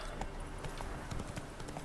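A horse's hooves clip-clop steadily in Witcher 3 over a dense, busy game soundscape, the rhythmic beats fairly faint under the background.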